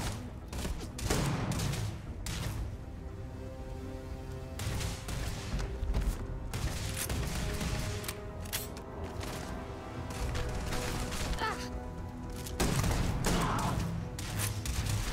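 Crossfire in the space game Starfield during a boarding fight, with dense overlapping volleys of shots and thuds over a steady mechanical background, loud and continuous for the whole stretch.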